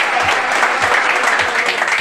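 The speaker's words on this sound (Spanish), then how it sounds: "Un aplauso, chavales." Group applause from a crew after a chicken-eating challenge filmed at a hotel, a dense, continuous wash of clapping with faint voices underneath.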